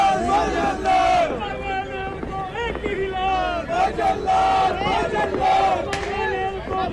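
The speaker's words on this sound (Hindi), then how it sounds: "सेल्फी लेने के लिए लोगों की भारी भीड़ भी लग गई" A large, noisy crowd gathers in Jaipur during Diwali to take selfies with the chief minister, with dense overlapping voices and shouting continuing throughout.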